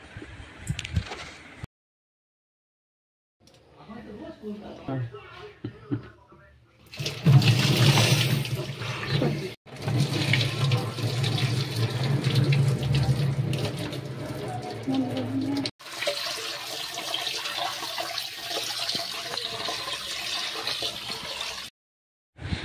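Water runs and splashes in uneven bursts while chhana, curdled with lemon juice, is rinsed in plain water, with brief gaps and changes in flow.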